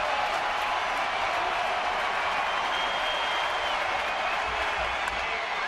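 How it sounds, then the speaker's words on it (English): A baseball crowd stands and cheers for the pitcher after a complete-game shutout, giving dense, sustained applause and roaring at an even level throughout. "And now all standing and cheering for Madison Bumgarner."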